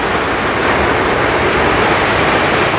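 Curug Paniis, a tiered waterfall at Sumur, Pandeglang, pours in a steady, loud, dense roar of falling water that fills the whole moment without pause or voices.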